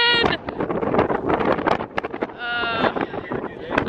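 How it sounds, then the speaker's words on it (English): Wind buffets a microphone outdoors in Montana, a loud, steady low rumble running through the whole stretch while a person talks over it. "Oh no, the wind!"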